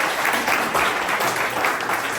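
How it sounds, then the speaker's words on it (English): An audience at a tech meetup applauds as the next speaker is introduced, a dense, continuous round of clapping at a steady, fairly loud level. "So, round of applause for him,"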